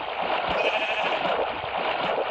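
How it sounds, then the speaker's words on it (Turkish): A sheep bleats steadily in Minecraft over a dense, bright synthetic-sounding background, the call sustained and fairly loud throughout. "Otlayan koyun."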